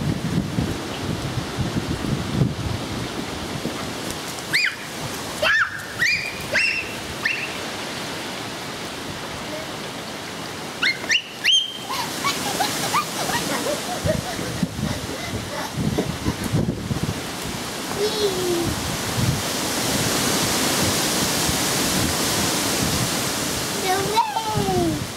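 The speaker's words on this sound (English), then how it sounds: "It's the wind. Did you hear that wind?" Wind blowing outdoors, a broad rushing roar with rustling that swells and grows steadier toward the end, with brief voices heard at times.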